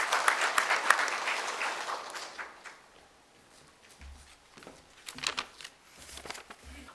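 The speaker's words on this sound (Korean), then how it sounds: "큰 박수 부탁드리겠습니다." Conference audience at a job creation and regional economy event applauds a speaker being welcomed; fairly quiet, moderately dense clapping from a hall that thins out and fades within a few seconds, leaving scattered soft rustles.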